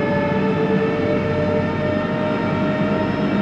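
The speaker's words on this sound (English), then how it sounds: "I love when you just slam the hydrostat all the way forward and it's like, I love that sound." Case IH tractor, a 4440 or 4430, with the hydrostat pushed fully forward: a steady loud engine drone with constant whining tones, unbroken throughout and heard up close with no speech.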